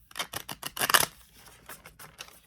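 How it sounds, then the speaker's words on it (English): Tarot cards are shuffled by hand in a fast riffle of crisp, close flicks that build to a dense burst, then thin out into a few scattered soft taps. "I'm just going to shuffle again."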